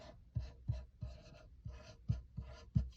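Pencil strokes sketch a music staff on regular printer paper, a run of short scratchy scrapes with soft taps at each stroke start, close and quiet with no talking.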